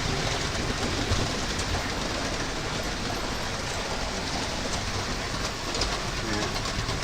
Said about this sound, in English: I have to wait for the train to go past.